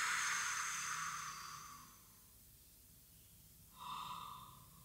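Slow, deep breathing during a short relaxation exercise, a long soft exhale that fades to near silence before a fresh breath begins, close and quiet with no talking.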